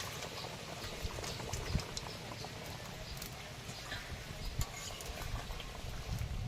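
Curry with yam bubbling in a pot at an outdoor picnic, a steady low simmering patter with faint pops, quiet and continuous throughout.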